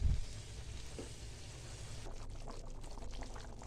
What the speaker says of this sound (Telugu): రోల్ బాయిలింగ్ అవుతుందండి.